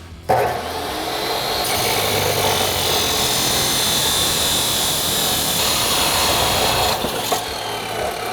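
A power saw cuts steadily through a Ram 1500 exhaust pipe with a continuous loud, harsh grinding whine, close by and without talking.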